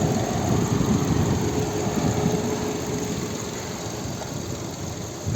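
A 2007 VW Touran with a 1.6 MPI BSE petrol engine runs steadily at idle, a close, even low hum and rumble with no talk over it.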